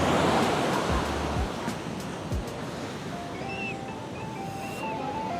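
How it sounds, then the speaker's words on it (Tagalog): Strong, high ocean surf pounding a beach at Elyu (La Union), a steady loud roar of breaking waves with wind buffeting the microphone, no one speaking. "Grabe yung mga alon guys, ang tataas."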